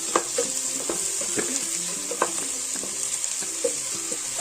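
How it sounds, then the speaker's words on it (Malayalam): Chopped tomatoes sauté in a pan for potato capsicum masala, a steady sizzle with regular stirring scrapes and taps of a spoon against the pan, close and alone. "ഇനി നമുക്ക് ചെറുതായി കട്ട് ചെയ്ത് വെച്ചിരിക്കുന്ന തക്കാളിയും കൂടെ ചേർത്തൊന്ന് വഴറ്റി കൊടുക്കാം."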